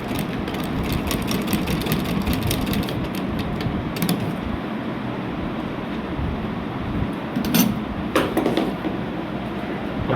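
A sewing machine stitches a belt onto a salwar, its motor running in a steady continuous whir with mechanical clatter throughout, close and fairly loud, with a few brief louder bursts near the end.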